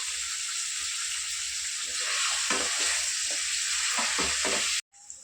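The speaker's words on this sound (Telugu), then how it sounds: "అట్లానే ఒక చిటికెడు ఉప్పు, కొంచెం పసుపు వేసేసి ఫ్రై చేసుకున్నాము" Paneer cubes fry in oil with salt and turmeric, a steady close sizzle and hiss with scattered stirring scrapes, which stops abruptly near the end.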